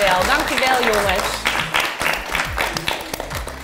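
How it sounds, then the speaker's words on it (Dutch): Applause for contestants during a competition, loud and dense clapping with voices talking and cheering over it, thinning out slightly toward the end. "Dus ook een groot applaus voor Morgan, Kenza, Joost, Max en Emmanuel."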